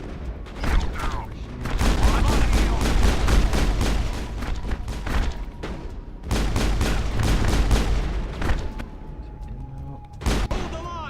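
Rapid bursts of gunfire in a Mass Effect firefight, loud close volleys of repeated shots in long strings with brief pauses, under occasional voices.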